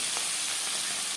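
Puti fish hit hot refined oil, giving a short, loud, steady hiss of sizzling that fades out at the very end.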